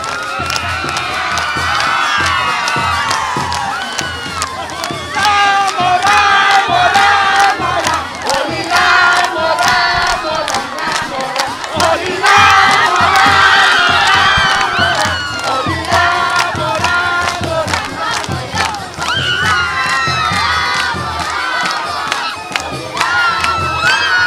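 A large crowd of people of all ages cheers, whoops and shouts in celebration at a Janmashtami festival in Barhi, Nalbari, a loud continuous roar with children's shrieks rising and falling throughout.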